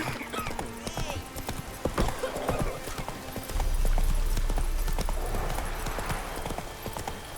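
Horse hooves galloping in the game Witcher 3, a rapid rhythmic clip-clop close by, with a deeper rumbling stretch midway and a brief snort or whinny; no speech.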